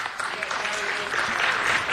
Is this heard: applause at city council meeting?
yes